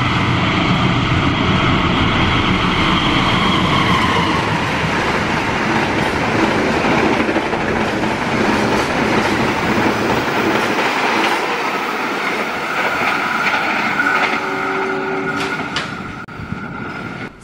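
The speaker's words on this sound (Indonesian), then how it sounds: "Berikutnya kereta api Fajar Utama YK" The Fajar Utama YK train passing close by, a loud sustained rumble with rhythmic clickety-clack of wheels over rail joints, fading toward the end as a horn-like tone emerges.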